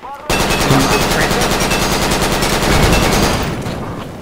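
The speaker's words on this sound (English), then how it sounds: "AK fire on us." A sustained burst of rapid AK rifle fire in Project Reality rattles on for about three seconds, loud and close, before fading out.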